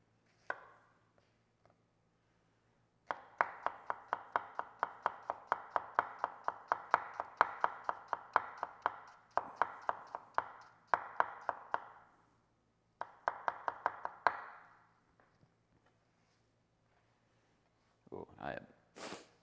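A knife chops shallots into very thin shreds, a rapid, steady run of crisp close strokes that pauses briefly and then resumes before stopping.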